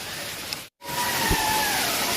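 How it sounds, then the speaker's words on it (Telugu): Steady broadband rush of the Anantagiri waterfall in the Araku Valley, heard from a distance as a continuous hiss, broken by a brief dropout before the roar resumes. "ఇటు పక్క అయితే పెద్ద వాటర్ ఫాల్ ఉంది"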